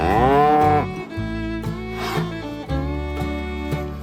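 Dairy cows moo in green pastures, a few long, loud, close lowing calls following one another with short pauses between them, no people talking.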